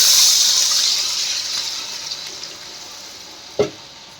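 Water poured into potatoes frying in a pan with salt and turmeric, giving a loud hissing sizzle that gradually fades, then a single short clack of stirring near the end.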